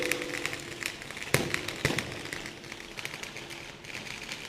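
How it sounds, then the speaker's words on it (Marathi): Firecrackers going off to welcome a political campaign rally in Patan, a few sharp cracks standing out over a steady crackling, fizzing rattle at moderate distance. "शंभूराजेंनी आपल्या स्वागताला फटाके लावले आहेत"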